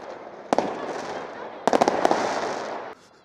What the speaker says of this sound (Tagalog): Nakakita rin fireworks